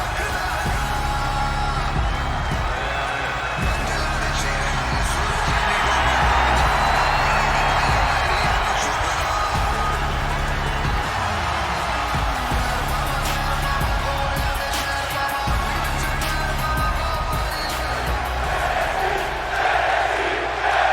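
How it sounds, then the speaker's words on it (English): A wrestling crowd roars and cheers continuously as an NXT match begins, loud shouts and whoops filling the arena, with rhythmic thumps and announcer voices underneath. "the crowd getting ruckus as NXT starts off with this matchup"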